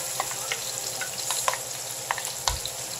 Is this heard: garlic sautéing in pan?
yes